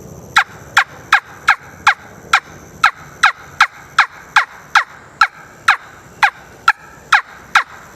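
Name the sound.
wing bone turkey call being played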